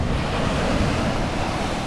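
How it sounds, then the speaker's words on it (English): Small shore breakers roll onto a steep Australian beach on a winter day, producing a continuous loud roar of surf mixed with steady wind rumble on the microphone. "all you got is little shore breakers just rolling in like that"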